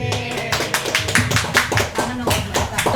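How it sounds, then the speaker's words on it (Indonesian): Audience applause at an office training session, a dense run of many hands clapping steadily for the full length, loud and close, with no talk over it. "Tepuk tangan buat Mbak Hita dong"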